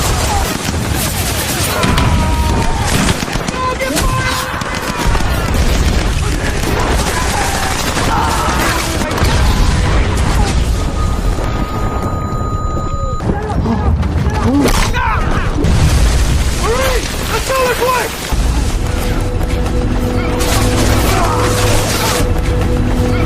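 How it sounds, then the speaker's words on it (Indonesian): Japanese gunfire and explosions rake a Pacific beach landing in a World War II war film, dense loud bursts and booms continuing throughout, with voices shouting over the battle. "Ia tak memperdulikan tembakan-tembakan Jepang yang terus diarahkan menuju garis pantai."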